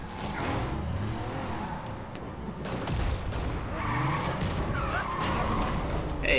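Car engine and skidding tires in the Spider-Man video game, a steady mechanical rumble with scraping, screeching surges during a chase, continuous and fairly loud, no talking.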